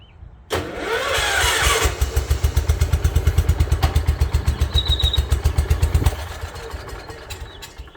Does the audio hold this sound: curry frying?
no